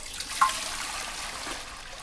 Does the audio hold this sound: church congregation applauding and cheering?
no